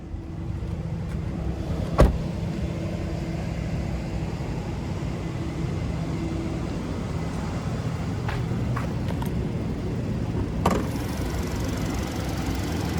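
A Hyundai Santa Fe 2.5-litre naturally aspirated four-cylinder engine idles with the hood open, a steady low hum, with a couple of sharp clicks at the start and end.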